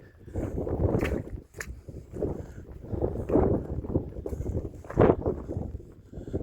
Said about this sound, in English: the wind's getting stronger